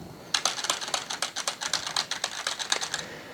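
Rapid, steady keystrokes on a computer keyboard during coding work, close and clear, a brisk run of clicks with no voices.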